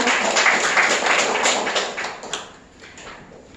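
An audience at a lecture breaks into applause, a dense burst of clapping that thins and fades over a few seconds to scattered claps.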